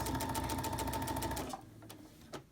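A sewing machine runs a straight quilting stitch at 2.0 mm length across a quilt, a steady close mechanical whirr that stops after about one and a half seconds, followed by a few faint clicks.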